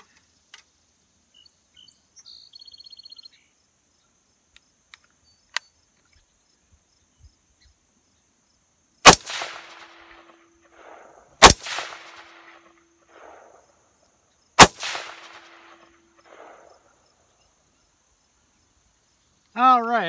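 Three sharp, loud rifle shots fired with a Vortex Strike Eagle 1-6 scope, spaced a few seconds apart, each with a short outdoor echo tail, in otherwise quiet surroundings with a brief voice at the end.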